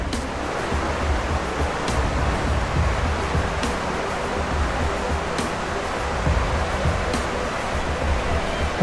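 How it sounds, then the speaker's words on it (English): A rainforest waterfall pouring into a pond, a loud, dense and continuous rushing roar of falling water that stays steady and close throughout, with no voices over it. "here's the beautiful waterfall"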